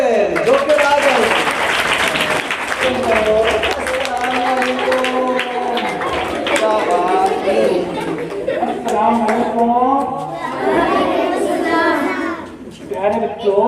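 Clapping at a school show for a joker performance rises over chatter and children's voices, with people talking and laughing throughout a lively, crowded room.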